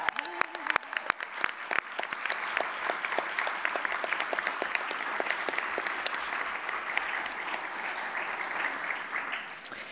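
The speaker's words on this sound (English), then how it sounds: "So I think that's another round of applause" A school board meeting room fills with applause, starting as a few sharp separate claps and swelling into steady clapping from many people that holds for several seconds.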